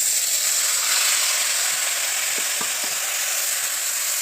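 Jujube (kul) pickle with bay leaf frying in a hot pan, a loud continuous sizzle with a few soft clinks as it is stirred, no voices.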